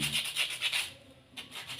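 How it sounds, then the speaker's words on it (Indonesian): Sandpaper rubbed by hand over a lightweight aerated concrete brick (hebel) being shaped into an ashtray, quick close scratchy strokes in a rapid rhythm with a short pause before the rubbing resumes. "amplas aja biar nggak terlalu tajam"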